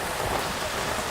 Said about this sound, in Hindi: आगे भी लगता नहीं है बारिश आज रुकेगी